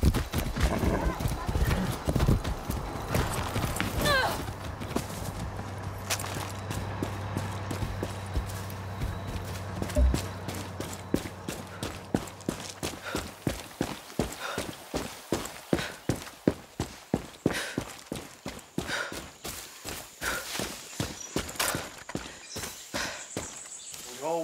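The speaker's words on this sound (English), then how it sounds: "That's a good horse." Horse hooves clip-clopping in the video game Far Cry 6, in a quick, steady rhythm, getting faster and crisper as the horse picks up pace, with voices talking early on.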